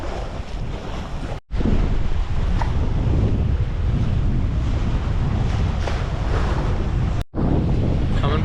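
Steady wind roaring across the microphone aboard a Catalina 25 sailboat in a consistent 13-knot breeze on open water, loud and continuous with two brief dropouts, and waves washing beneath it.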